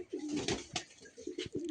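Andhra fulsira tippler pigeons for sale: a few short, soft coos close by, low and throaty, quiet and alone.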